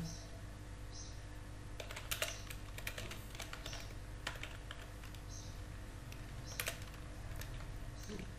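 Close, quiet typing on a computer keyboard: irregular bursts of sharp key clicks with short pauses between, over a low steady room hum.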